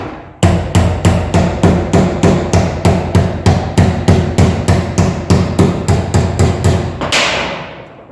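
A hammer and dolly work the sheet metal of an AMC Gremlin body, roughly two dozen loud, close metallic blows struck in a quick, even rhythm, each ringing briefly, before the hammering stops.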